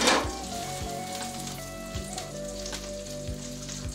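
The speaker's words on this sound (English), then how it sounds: "You hear the sizzle?" Winter flounder fillets sizzle and crackle steadily in a hot frying pan, with a few soft knocks and scrapes of a utensil against the pan.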